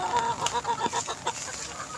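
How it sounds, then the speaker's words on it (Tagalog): Several chickens cluck and murmur close by in a backyard chicken coop, overlapping in an uneven, busy chatter with a few sharper calls standing out. "Pagdating ko dito sa manukan, yung mga manok ko talagang nagkikilusan sila"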